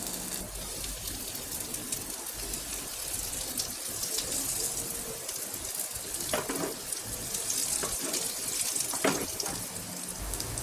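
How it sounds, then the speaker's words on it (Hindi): Raw banana kebabs sizzle in lightly heated oil, a continuous soft hiss and crackle with a few brighter pops near the end, fairly quiet and without talk. "तेल हल्का गर्म हो गया है तो अब हम इसमें केले के कबाब को रखेंगे"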